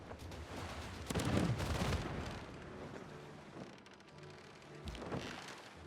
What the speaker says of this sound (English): Alright, bombard the city.